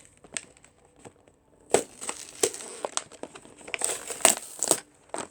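Nerf gun packaging being torn open by hand: bursts of crinkling, tearing plastic and cardboard come in irregular crackly spurts, close and moderately loud, without speech.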